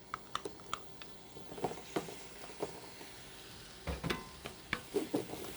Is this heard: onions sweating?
yes